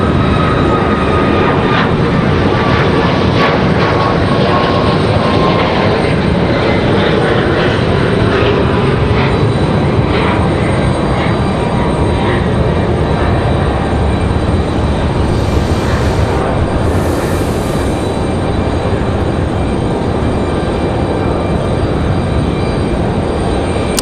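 A Southwest Boeing 737 MAX jet takes off at Raleigh-Durham airport, its engines producing a loud, sustained roar that stays steady and close for the whole stretch with no talking.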